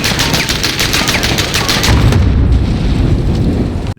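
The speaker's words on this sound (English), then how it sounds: "I guess I have to use a shotgun." Shotgun fire in Call of Duty: Modern Warfare, loud and close, a rapid run of repeated blasts merging into a steady roar that ends abruptly.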